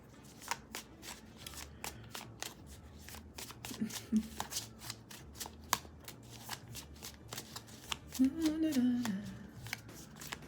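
Tarot cards riffled and shuffled by hand in quick repeated crisp flutters and taps, continuing steadily at close range with faint low background hum.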